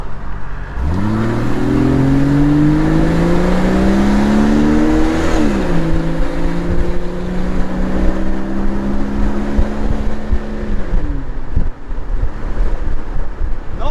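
A Jeep XJ on DIY beadlock wheels accelerates up to highway speed, its engine rising through gears with clear revving sweeps, under heavy wind and road roar that continue steadily.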